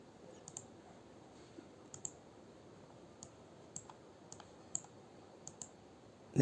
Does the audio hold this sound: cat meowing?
no